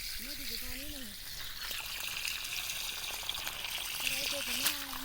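Water runs steadily outdoors near a home under a coconut tree, a constant hiss with voices talking over it at the start and again near the end.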